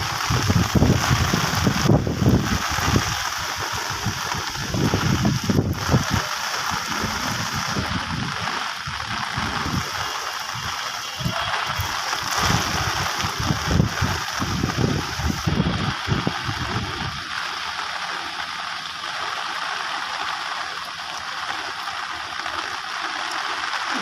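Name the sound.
rain falling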